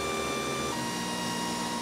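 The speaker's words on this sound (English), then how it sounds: "The A10M is not the quietest printer. The default A4988 stepper drivers are relatively loud." Geeetech A10M 3D printer running on its stock A4988 stepper drivers, a loud, steady whine of motor tones with a constant mechanical hum, close and unbroken.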